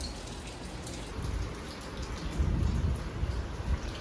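Steady heavy rain pours down with low rolling thunder building beneath it, a dense continuous wash of sound heard indoors near an open window, with no voices.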